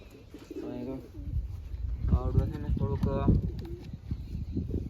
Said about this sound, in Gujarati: એ કબૂતર છે